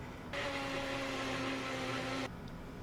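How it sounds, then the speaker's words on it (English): Bullet blender whirring as it blends garden greens, a steady motor hum with a grinding buzz that starts abruptly, runs for about two seconds, then cuts off, fairly close and alone. "And then I blend it up in my bullet blender, which I got recently."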